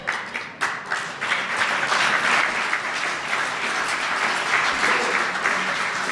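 An audience at a progressive holiday party celebration in Iowa bursts into sustained, dense applause that swells after a few scattered opening claps and holds steady to the end.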